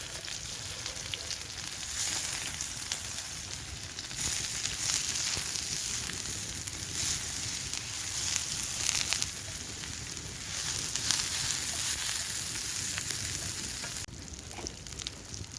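Food sizzles steadily on a flame grill over an outdoor campfire, a continuous close frying hiss with crackle running the whole time, no talking.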